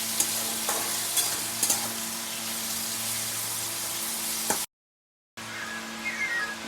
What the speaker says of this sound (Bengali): পেঁয়াজ আছে, এগুলো সব ভেজে নেব।